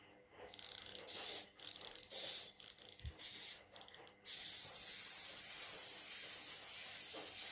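A clockwork lion toy, repaired with 3D-printed parts, runs its mechanism with a close whirring buzz. It starts in several short bursts and then runs steadily without a break.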